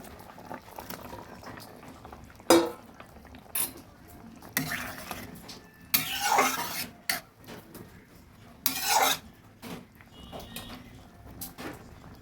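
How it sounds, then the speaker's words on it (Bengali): Fried prawns drop into a pan of simmering potato curry, bursts of splashing and sizzling over a steady bubbling boil, with occasional clinks of a utensil against the pan. "এবার আমি ভাজা চিংড়ি মাছগুলো দিয়ে দিচ্ছি।"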